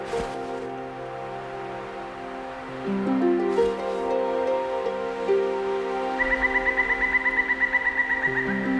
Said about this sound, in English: a pair of barred owls.